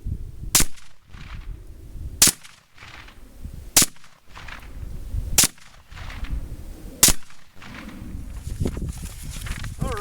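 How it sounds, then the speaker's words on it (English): Five sharp rifle shots from a US Krag M1898 sporter in .30-40 Krag, loud and evenly spaced about one and a half seconds apart, with quiet handling and bolt-working sounds between them. "so that's 5 shots, 30-40 Krag"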